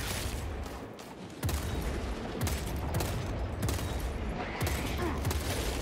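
Dense gunfire in the video game Space Marine 2: sustained volleys of rapid shots and bursts keep up loud and continuous throughout, with no gaps of quiet.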